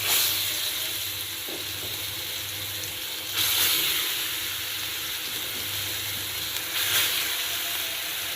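Fish sizzles steadily in spiced oil on a tawa, a continuous close frying hiss with a few brief louder bursts of spatter and no talking.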